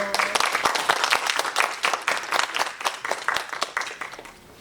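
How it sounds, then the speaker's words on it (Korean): An audience at a library lecture applauds steadily, dense clapping throughout that gradually thins and fades toward the end. "큰 박수로 환영해 주십시오."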